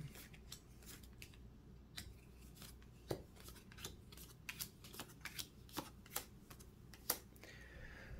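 Cards are drawn to replenish a hand during a Royal Visit board game, quiet crisp card slides and flicks at irregular intervals against a low background hum.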